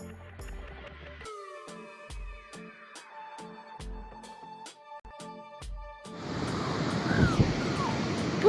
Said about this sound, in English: Look at those waves, isn't that gorgeous?